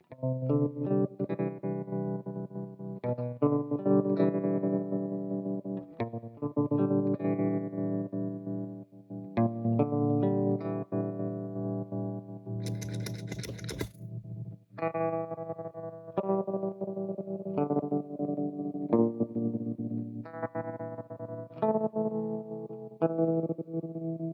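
Distorted electric guitar chords through a Cusack Tremolo AME 2.0 pedal on its glitch setting, a choppy, stuttering effect cutting the sound in and out, loud and continuous with a brief noisy burst midway.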